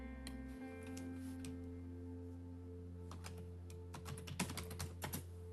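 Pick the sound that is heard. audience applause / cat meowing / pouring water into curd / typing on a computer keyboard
typing on a computer keyboard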